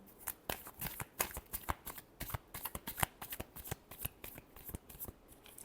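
Tarot cards are riffled and shuffled by hand close up, a quick irregular run of crisp flutters and sharp slaps, fairly quiet and with no talking.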